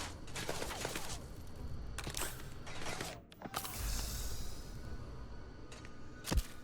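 Bursts of gunfire during a firefight in the video game Starfield, with rapid shots clustering in several volleys across the clip over a steady background hum, one sharp louder report near the end.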